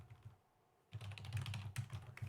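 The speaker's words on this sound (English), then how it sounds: "I'm sure the keyboard sounds are great." Computer keyboard typing during a West of Loathing gameplay session, a quick burst of close, clattering keystrokes after a short quiet pause, dense and steady with no voice.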